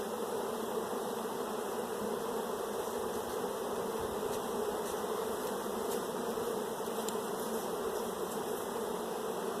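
Honeybees hum in a steady, close, continuous buzz from an open hive as brood frames are inspected before splitting, with no talk.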